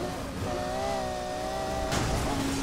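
A high-revving Lamborghini engine in the video game Need for Speed Heat drones steadily with a bright whine, then surges louder near the end as it accelerates.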